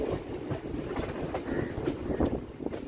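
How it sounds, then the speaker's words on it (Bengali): A Kolkata Circular Railway train near Ballygunge Junction, entering the Sealdah–Sonarpur line, rumbles steadily along the rails, a continuous clattering roar with faint rhythmic knocks, close and fairly loud, no voices. "এখান থেকে আমাদের ট্রেন শিয়ালদা সোনারপুর লাইনে ঢুকছে"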